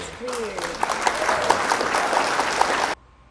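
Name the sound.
applause sound effect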